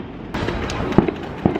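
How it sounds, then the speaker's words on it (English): Fireworks at a festival in Beijing, with a few scattered dull bangs and crackles heard in the distance over steady outdoor background noise. "Can you hear the bangs? They've got some like fireworks and things, isn't there?"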